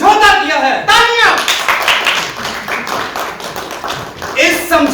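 Audience clapping at a Jaipur ceremony celebrating a bottled water company deal, loud and steady through the clip, mixed with shouts and voices from the crowd.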